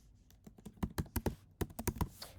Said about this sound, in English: type the word complementary